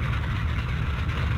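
A Halifax bomber's piston aircraft engine runs steadily at a low idle, a continuous deep rumbling drone with no talk over it.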